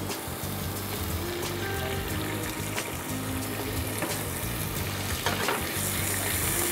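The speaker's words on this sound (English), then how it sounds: "some chopped onion, along with some extra virgin olive oil" Chopped onion sizzles steadily in extra virgin olive oil in a pan, a continuous close frying hiss with occasional stirring scrapes and no voices.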